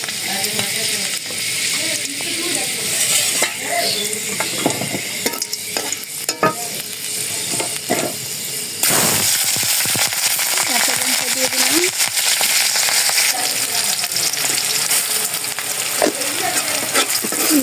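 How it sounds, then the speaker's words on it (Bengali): Cumin and fenugreek seeds fry in hot oil in a pan, giving a loud, continuous sizzle and crackle with stirring scrapes, while a voice speaks at times over the frying. "তেল এসে গেছে জিরা দিয়ে দিলাম আর এই যে কিছু মেথি দিয়ে দিলাম"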